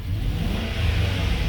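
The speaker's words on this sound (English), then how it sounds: "Let me rev it up so you can hear this engine." The engine of a 2003 GMC Sierra 2500 pickup that has been sitting for some time with its check engine light on is revved, giving a steady loud rumbling drone close to the microphone.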